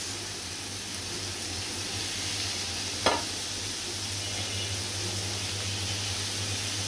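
Prawns added to bitter gourd in a hot pan, a steady soft sizzle over a low hum with one brief clatter midway.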